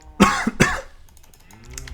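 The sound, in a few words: cough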